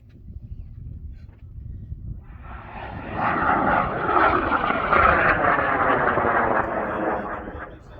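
Experimental rocket at the BALLS 31 launch event lifting off, a loud broad roaring rush swelling in after a quiet start and sustained for several seconds with a sweeping, slowly shifting tone as it climbs away.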